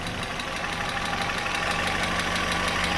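A Datsun car engine idles steadily and close by after a carburetor rebuild, its low rumble and rhythmic knocking continuing evenly throughout with no voices.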